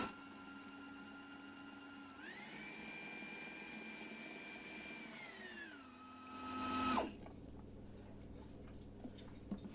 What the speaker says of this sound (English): be careful when you're whizzing up hot things in a food processor